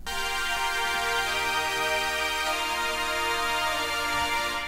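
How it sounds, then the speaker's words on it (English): Sustained synth pad made in FL Studio, a dense bright chord with many steady tones held unbroken and evenly loud throughout, with no voices. "We've also got this sustain pad that sounds like this."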